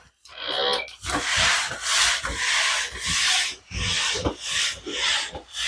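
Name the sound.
Swiffer WetJet mop cleaning a tile floor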